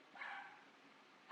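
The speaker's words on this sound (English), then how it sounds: "Sorry, that's my dog barking in the background" A pet dog barks in the background of a room, a faint, muffled bark or two at a distance, with a sharper sound right at the end.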